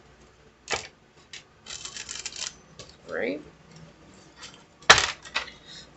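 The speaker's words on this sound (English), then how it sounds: "Let me give these a shuffle." Tarot cards are shuffled by hand in a few short papery riffles and slaps, with a brief spoken word between them.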